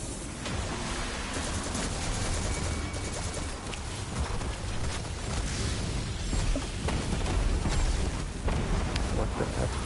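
Continuous roaring rumble of explosions in the video game Destiny 2: Lightfall, dense and sustained for the whole stretch, loud and close, with no distinct pauses.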